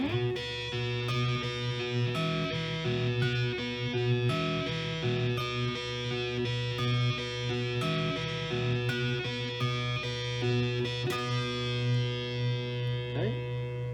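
A distorted electric guitar plays a riff up to speed, fast, driving picked notes in a continuous rhythmic phrase with effects, heard alone at moderate volume ending in a downward slide.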